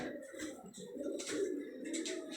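Domestic pigeons cooing close by in a loft setup, soft repeated throaty coos layered over one another with faint chirps, steady and moderately loud with no talking.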